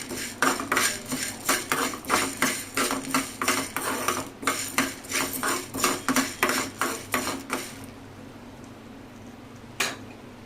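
A metal spoon stirs masala in a pan for Madras rasam, clanking against the pan in a fast, regular rhythm of about two strokes a second. The strokes then stop, leaving a soft background with one last clink near the end.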